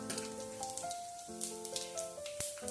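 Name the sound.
mustard seeds sizzling in hot oil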